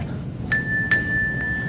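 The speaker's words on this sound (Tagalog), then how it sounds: "Doorbell muna tayo." A cafe entrance doorbell gives two quick bright chimes close by, each ringing on with a clear metallic tone, over a quiet room hum.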